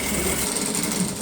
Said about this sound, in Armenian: այս նորակառույցի ներսում աշխատող կարի մեքենաների աղմուկը